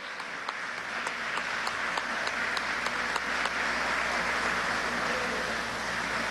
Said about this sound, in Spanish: vamos a recibir con un fuerte aplauso al profesor Ignacio Ramonet